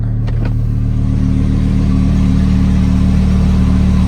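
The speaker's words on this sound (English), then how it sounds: "The car is super loud, I'm sure you can hear it." A Lamborghini engine idles close and loud, a steady deep rumble with a couple of brief ticks near the start and no speech.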